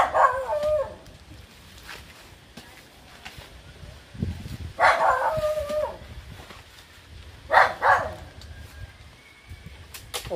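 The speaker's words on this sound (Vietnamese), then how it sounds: "Phía này có một con chó. Nó sủa hơi ồn" A dog barks noisily nearby during tree-cutting work, a few short bursts of barking spaced several seconds apart over outdoor background noise.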